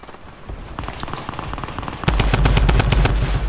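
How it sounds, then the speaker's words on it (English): Rapid gunfire from Fortnite crackles in quick bursts, at first busy and mid-level, then a louder, denser volley of evenly spaced shots takes over partway through. "I'm being shot at!"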